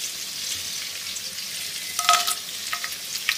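Whole cardamom, cinnamon and cloves hit hot oil for a Chinese-style chilli chicken, giving a soft steady sizzle that flares into a brief sharper crackle partway through.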